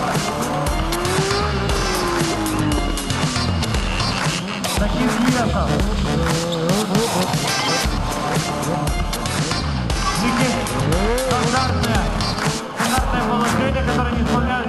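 Stunt motorcycles ride at a show, each weighing about 170 kg, some ridden nearly vertical; engines whine and rev loudly and continuously, rising and falling in pitch, with crowd noise and a voice faintly under the din.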